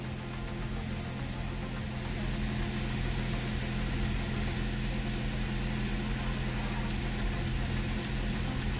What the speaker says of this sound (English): The idle's a little high.